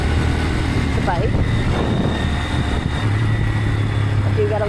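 A motorcycle engine runs steadily and continuously while the bike is ridden after an earlier wheelie crash, a constant low rumble with wind noise close to the rider.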